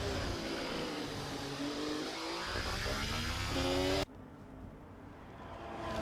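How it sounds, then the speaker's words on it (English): A Ferrari race car engine in a racing simulator game at the Austria circuit, with a buzzing engine note that climbs through the revs. After an abrupt cut partway through, a duller, more muffled engine drone follows. "I don't really like the sound of the Ferrari engine"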